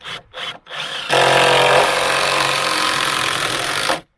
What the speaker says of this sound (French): Hop, et moi je vais visser.